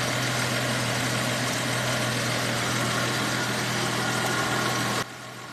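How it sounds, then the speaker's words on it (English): A 1983 Holden VH Commodore engine idles steadily with a low, even rumble, then the sound drops off sharply just before the end. "You can definitely hear it running in this one"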